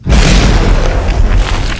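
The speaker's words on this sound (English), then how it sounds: "Oh my god, that explosion's so damn loud." A grenade explodes in the PC horror game Half Dead, one very loud, deep boom that hits right away and then rumbles on through the whole moment.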